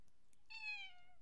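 A gray cat gives a single clear, drawn-out meow, close by and quiet, in an otherwise still room.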